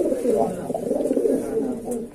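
Madrasi pigeons coo steadily in a loft, soft rolling calls overlapping close by for the whole stretch, with a voice talking faintly beneath them.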